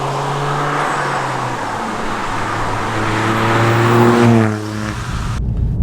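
Toyota GR Yaris with an Aulitzky OPF-back valved exhaust, valves open, cruising on the road: a loud, steady droning engine note with strong low harmonics that swells and rises in pitch before easing off near the end.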